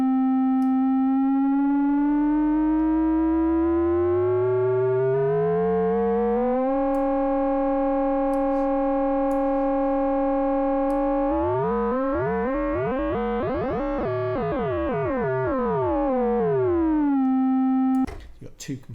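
Arturia Jupiter 8V synth with VCO1 cross-modulated by VCO2: a bright buzzy tone whose pitch climbs, holds, then dissolves into swirling, sweeping metallic sidebands before settling back to a steady note and cutting off.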